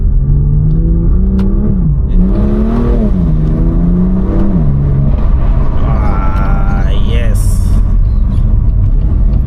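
A BMW M2 Competition F87 accelerates loudly and close, its engine note rising and falling through several gear changes, with a person talking over it.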